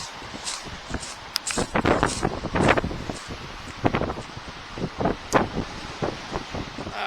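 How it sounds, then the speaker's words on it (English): Gusty wind buffets a microphone outdoors, producing uneven low rumbling bursts and swells that come and go throughout, close and fairly loud. "Too much wind here."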